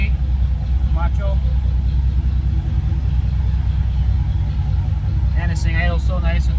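A car engine on an MS3 MegaSquirt setup with DFI idles in a steady, low, even rumble up close, with a person talking briefly over it.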